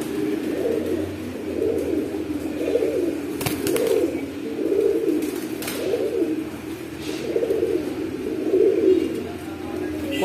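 A pair of pigeons from a fancy-pigeon collection coo in repeated, rhythmic rolling phrases about once a second, with a couple of sharp clicks partway through.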